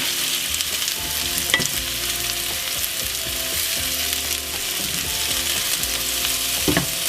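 Vegetables sizzle steadily in hot oil in a pan. Scraping and clinking from stirring and flipping come through close and continuous, with no talking.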